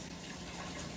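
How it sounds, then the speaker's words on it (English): A kitchen tap runs for hand washing, a brief, steady gush of water, close but fairly soft. "I'm just going to wash my hands"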